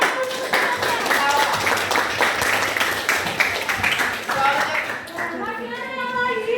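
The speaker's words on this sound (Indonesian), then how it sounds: "Tepuk tangan untuk semuanya." Classroom clapping from students during a lesson on social media etiquette, a burst of hand claps mixed with children's voices and a teacher talking over and after it.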